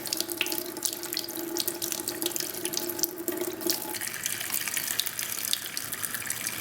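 Water runs and splashes steadily as it is flushed in and out of a Lamy fountain pen converter, a continuous wet rushing with faint gurgles throughout.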